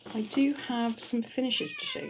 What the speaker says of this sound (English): Oh, did you hear that? That is my cat.